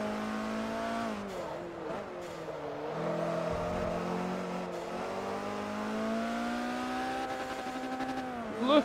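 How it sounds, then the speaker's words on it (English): A Ford RS200 rally car engine in Forza Motorsport 3 on a rallycross circuit drones steadily, its pitch climbing and dropping through gear changes and throttle shifts, with a brief whine and a louder rev at the end. "The RS200 is such a nice car."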